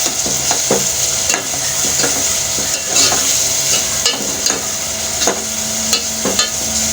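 Spices sauté in a hot pan with oil, a steady close sizzle broken by repeated scraping and clinking strokes of a spoon stirring the masala, with no one speaking.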